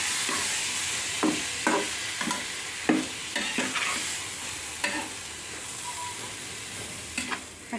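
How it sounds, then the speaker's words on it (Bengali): Seasoned red lentils being stirred as they fry in a pan, with a continuous hissing sizzle and irregular scraping strokes of a spatula, moderately quiet and close, no voices. "এখন কিছুক্ষণ আমি এটাকে নেড়ে নেব।"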